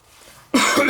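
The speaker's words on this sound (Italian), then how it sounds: "ho respirato un po' quella polvere dalle spazzole. Mi ha fatto tossire." Cough from someone who inhaled dust off the brushes of a Rexair Rainbow D4G vacuum cleaner, a single loud, close burst that breaks out suddenly after a quiet stretch.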